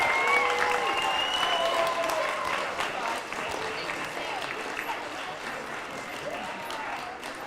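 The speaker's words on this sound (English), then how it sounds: "Please give them another round of applause" Audience applause follows a school spring concert by an orchestra and third grade recorder players, a steady dense clapping from a crowd in a hall that holds for several seconds.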